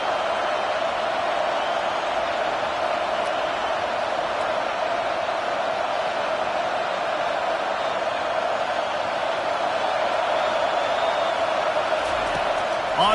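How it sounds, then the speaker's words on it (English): A stadium crowd in a PS5 football video game roars as a dense, constant wall of noise that holds steady at full level throughout, far off and without distinct claps. "Listen to this crowd just shaking the girders of this place"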